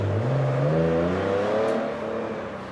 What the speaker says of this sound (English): a passing car pulls up outside